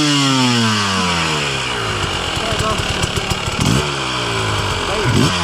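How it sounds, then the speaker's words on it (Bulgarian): Enduro motorcycle engine running close by, a loud buzzing idle with falling revs, then sharp throttle blips and revving surges near the end. "Това е втория мотор"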